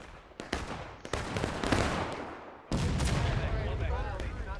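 Musket gunfire in the video game War of Rights, with a few sharp shots followed by dense rolling volleys, loud and close, and voices talking underneath.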